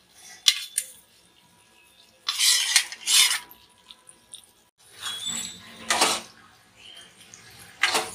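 Spoon or spatula stirring fried paneer pieces into oily fried masala in a pan for kaju paneer curry, with intermittent scraping and clinking bursts against the metal, close and moderately loud, no talking.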